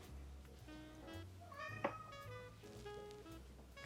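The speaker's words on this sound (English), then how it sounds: "Cat says meow." A cat meows several times in quick succession, soft and close, with its drawn-out cries rising and falling over a quiet room.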